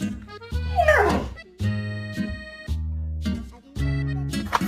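A dog whimpers and yips in a run of drawn-out, pitched whines broken by short gaps, close and fairly loud, with no talking.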